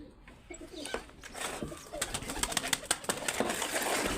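Pigeons in a coop, cooing and rustling up close at low volume, with soft wing flutters and scattered calls over a short stretch.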